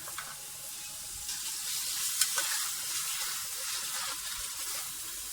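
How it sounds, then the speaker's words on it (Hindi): Spiced chicken roasting in a pan for Hyderabadi dum biryani gives a steady, moderate sizzle with occasional faint scrapes of stirring and no voices. "सारे मसाले हमने मिक्स कर दिए इसमें और बहुत ही अच्छे तरीके से इसकी हम भुनाई कर रहे हैं"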